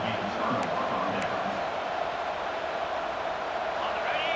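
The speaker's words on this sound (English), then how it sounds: "It's early, but this crowd is fired up. Listen to this noise here." Dense roar of a large college football video game stadium crowd, continuous and loud, with no distinct voices standing out.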